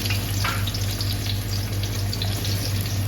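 Ginger and garlic fry in oil in a pan, giving a steady close sizzle with a low hum underneath and a few light stirring sounds.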